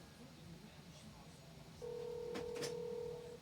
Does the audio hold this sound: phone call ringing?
yes